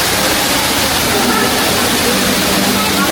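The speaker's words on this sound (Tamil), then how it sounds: "மேலே 6வது மாடியில் இந்த தண்ணியோட நீர்வீழ்ச்சி இருக்கும்" An indoor waterfall on the sixth floor of the SOGO mall in Malaysia pours with a dense, steady rushing roar, loud and close, filling the space without a break.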